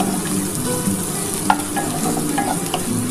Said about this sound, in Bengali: এই যে পেঁয়াজ আর কাঁচা লঙ্কাটাও দিয়ে দিলাম। এটা একটু ভাজা ভাজা হলে